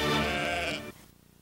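A sheep bleating once, a loud, wavering nasal cry close by, cutting off abruptly into quiet.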